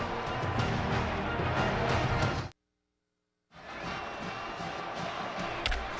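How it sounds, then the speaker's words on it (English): A stadium crowd at a 2008 Oklahoma vs Texas Tech college football night game roars in a dense, sustained wall of cheering, cut by a second of total silence before the noise resumes. "Crowd on fire"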